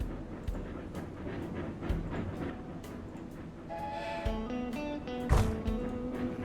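Trains in Railroad Corporation 2 roll along the track with a steady rumble and clatter, and a brief horn-like tone swells near the end.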